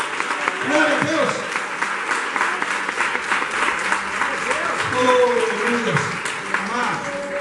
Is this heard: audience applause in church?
yes